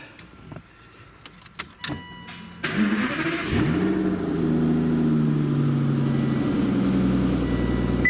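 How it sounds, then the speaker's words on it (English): A car engine cranks and starts after some faint clicks and handling noises, then settles into a steady, close idle hum with a slight rev. "I'm going to start the car and go from there."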